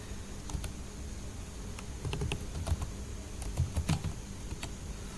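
Typing on a computer keyboard: a steady patter of light key clicks with a few louder taps, close and alone with no talking.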